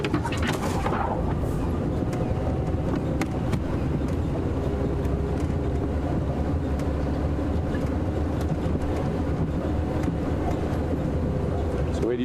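A car engine rumbles steadily and close throughout on a safari drive, a low continuous drone with muffled voices talking underneath.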